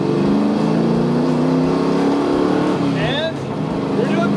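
A vintage Ford Mustang cruises along a desert highway in Death Valley. Its engine hums steady and close for several seconds, then the tone shifts briefly near the end.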